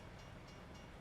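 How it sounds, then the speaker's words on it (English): Freight train rolling by in American Truck Simulator, a steady, low, continuous rumble holding at even loudness for a short moment with no voices. "Freight train passing through."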